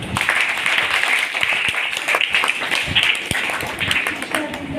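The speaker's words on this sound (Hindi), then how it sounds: "अपने आप के लिए एक बार जोरदार तालियां" Loud applause from a school Hindi Day gathering, many hands clapping steadily for several seconds with sharp individual claps standing out.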